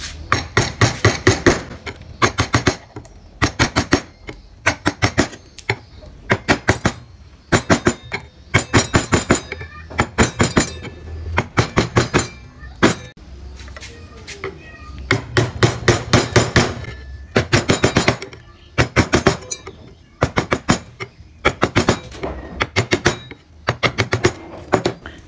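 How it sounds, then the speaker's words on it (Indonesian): A wood-carving chisel is struck with a mallet, giving loud, close, sharp taps in quick bursts with short pauses between groups, steady throughout. "di pinggir-pinggirnya ini dirapikan menggunakan pahat penguku atau bisa menggunakan pahat kol"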